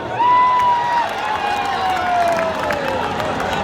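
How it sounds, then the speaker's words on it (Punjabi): Loud, sustained applause and cheering from a big crowd at a concert, with whistling and shouts threading through the continuous clapping. "ਬਾਬਾ ਡਲਵਾ ਸਾਹਿਬ ਸੀ ਜ਼ੋਰਦਾਰ ਤਾੜੀ"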